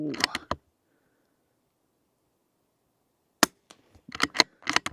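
Sharp rimfire rifle shots crack at a target outdoors in snowy ridgeline country, a quick cluster at the start, then silence, then a single loud shot followed by several more spaced reports.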